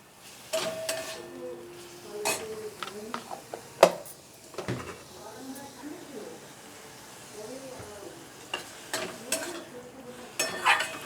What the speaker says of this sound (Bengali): এই মশলার সাথে একবারে কষিয়ে নেব